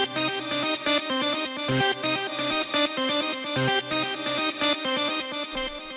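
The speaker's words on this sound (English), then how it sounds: "the first sound we have here is this lead" A Drumcode-style techno synth lead at 128 BPM plays a simple repeating pattern of short bright stabs, punchy and evenly spaced, loud and alone with no voices.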